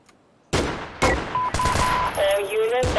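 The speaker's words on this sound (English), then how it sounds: "I was gonna show what hipfire accuracy is." Hip-fire shooting in the video game True Combat: Elite: after a brief quiet moment, loud rapid automatic gunfire starts and is joined by game sound effects and tones.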